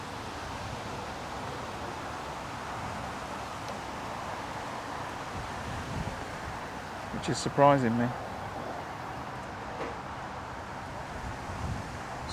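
Steady wind buffets an outdoor fishing lake during an open match, a broad rushing noise running the whole time, with someone talking briefly over it near the middle.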